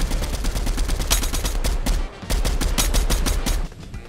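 Rapid bursts of automatic gunfire from the video game Fortnite, dense repeated shots running almost continuously with a brief gap near the middle, loud and close, with no talking.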